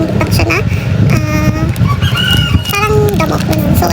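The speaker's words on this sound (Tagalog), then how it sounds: "narinig nyo na naman yung manok." A rooster crows repeatedly with rising and falling calls, mixed with chicken clucks, loud and close over a steady background murmur of other sounds.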